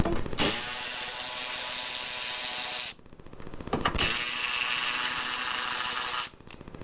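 A ratchet spins off the 11 mm bolts holding a Ford Fusion taillight to the trunk lid, a fast continuous clicking in two long close bursts split by a short pause.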